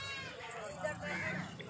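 Beetal dairy goats at the Sahiwal livestock market give a brief bleat over steady crowd noise and nearby talk.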